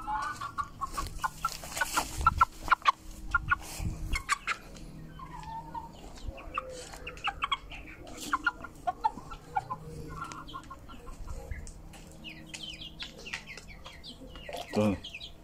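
Two-month-old chicks cluck and cheep busily while eating cat food, with soft scattered peeps and pecking close by and a few louder calls, and a voice speaks briefly now and then.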